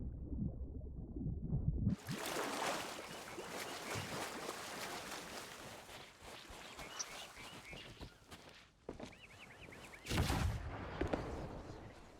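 Cannon fire in the pirate game Sea of Thieves: a loud sudden blast after two seconds of quiet, followed by a sustained broad rumble and splashing noise, with further sharp bursts around nine and ten seconds.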